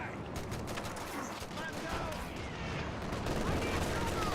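Dense, continuous battlefield gunfire from Company of Heroes 2, with sniper shots and overlapping rifle and machine-gun bursts rattling throughout, while a commentator's voice talks over the fighting.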